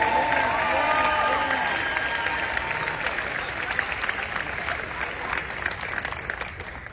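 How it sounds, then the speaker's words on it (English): Graduation ceremony audience for the class of 2025 applauding and cheering, dense sustained clapping with whoops and shouts from a large crowd, loud at first and gradually easing. "Come on, let's clap for them."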